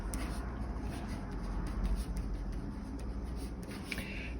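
Pen scratching steadily across paper while working out a math problem, close and continuous with soft rubbing strokes and brief pauses, no voice.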